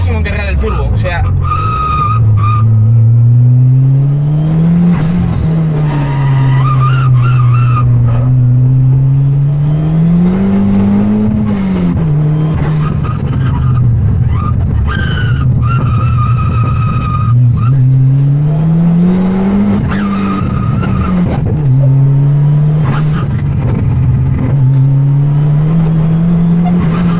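A 1980s Ford Escort fitted with a turbocharged rally engine is driven hard, its engine droning and rising and falling through revs close and loud, with tyre squeal and a voice talking over it.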